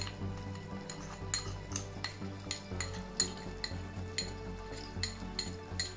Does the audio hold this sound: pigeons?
no